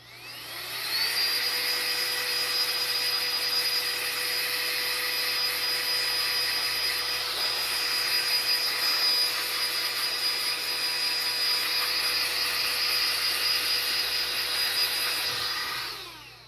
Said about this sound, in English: So go ahead and grab something to blow off the card with.